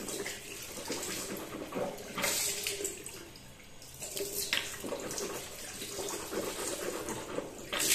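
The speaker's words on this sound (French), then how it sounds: "Et là, je vais pouvoir me rincer la bouche." Water runs from a bathroom tap into a sink during mouth rinsing after a teeth-whitening strip test, a steady close splashing rush that swells in two stronger bursts.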